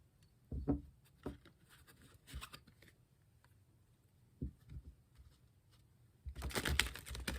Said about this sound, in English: Some shuffling first.